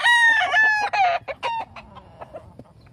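A rooster lets out a short, close crow that breaks into a run of choppy clucks and fades into softer clucking at the end.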